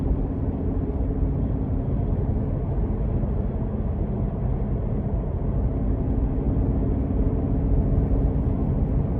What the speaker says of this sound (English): I'm just barely giving it throttle, and it's roaring